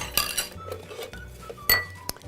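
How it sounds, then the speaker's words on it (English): A spoon clinks and scrapes against a bowl while quinoa burger mixture is stirred. There are a few sharp taps over softer scraping, close and fairly loud. "let us stir this all up together"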